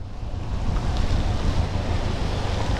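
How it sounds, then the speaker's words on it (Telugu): Heavy spray of water falls like artificial rain over a person on a ride near Srisailam, producing a dense, continuous hiss and rumble mixed with wind buffeting, loud and steady without talk. "ఇక్కడైతే ఒక ఆర్టిఫిషియల్ వర్షం పడుతున్నట్టు ఉంది, సినిమా షూటింగ్లో ఏవైతే వర్షం యూజ్ చేస్తారు కదా ఆల్మోస్ట్ అలాగే ఉంది"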